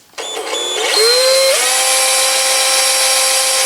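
A hand drill spins a model horizontal steam engine on a test run, giving a loud, steady whirring whine that rises in pitch as it starts up, then holds a constant buzzing tone with rattling mechanical harmonics.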